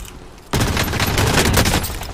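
Dense automatic gunfire from an EM-2 assault rifle in Call of Duty Warzone opens abruptly after a quiet half-second, then continues as a loud, sustained volley to the end.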